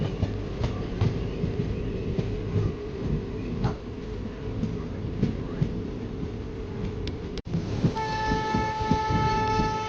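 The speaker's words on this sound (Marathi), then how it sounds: "पण रेल्वे अशी चालतच होती" An Indian Railways train to Parbhani rolls along steadily with a loud rumbling roar and faint rhythmic clatter of wheels on the rails, then a high tonal whine near the end.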